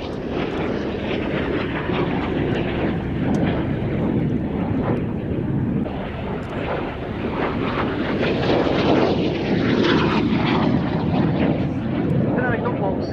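Tutor propeller trainer aircraft flying a display at the Cosford Airshow, a steady loud engine and propeller drone that swells and fades as it passes, under a commentator's voice and crowd noise.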